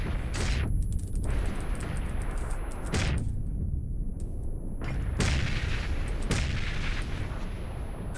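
Grenade blasts and gunfire from a first-person shooter video game, a dense, continuous barrage with several sharp explosive bursts standing out over rumbling battle noise, with no talking.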